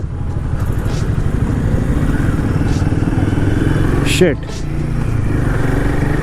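A Royal Enfield 450 motorcycle engine drones steadily up close while riding, with a brief clatter and a short exclamation from a voice partway through.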